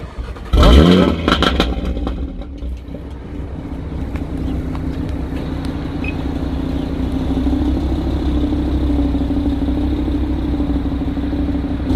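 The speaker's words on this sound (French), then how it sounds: "qu'on écoute le bruit. Du RS3. Ça pétarade ou pas sans rouler?" An Audi RS3 engine bursts into a sharp loud rev, then settles into a steady, deep idle rumble close by with the bonnet open.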